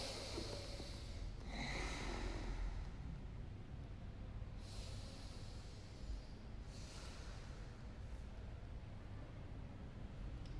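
Slow, quiet breaths drawn during a child's pose at the end of a yoga session, a few soft airy inhales and exhales spaced several seconds apart over a low steady background hum.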